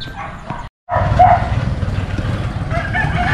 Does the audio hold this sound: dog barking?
yes